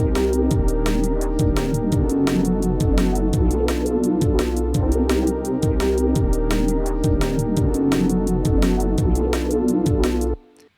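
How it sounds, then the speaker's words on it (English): Sustained synth pad chords with a bass line playing the root notes underneath, an even, rhythmic loop with regular bright accents, loud and steady, ending abruptly. "So I've written this progression here with a simple pad sound,"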